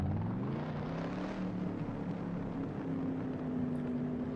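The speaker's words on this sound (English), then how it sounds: "The engine's running, so I think we get it into gear and get out on a route lap" A 1967 Corvette 427 engine idles and drones steadily in the Assetto Corsa driving game at Sebring International Raceway, its low harmonic hum rising slightly in pitch, loud and continuous, with no talking.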